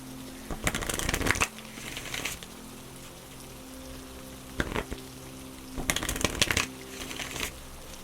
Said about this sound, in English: Next, we're going to pull some Moon Oracle cards.